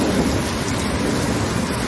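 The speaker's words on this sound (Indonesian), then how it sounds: "Wah, hujan. Hujan deras." A heavy downpour drums in a loud, unbroken roar, with low thunder rumbling underneath the rain throughout.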